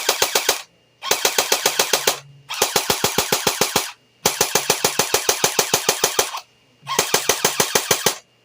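A JG Mac 10 airsoft AEG on a partly charged battery fires full auto at roughly 450 to 500 rounds a minute. Five close, loud bursts of rapid buzzing clicks are separated by brief pauses.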